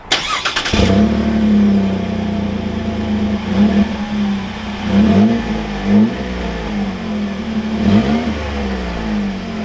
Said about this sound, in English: we also have the Gibson side exit exhaust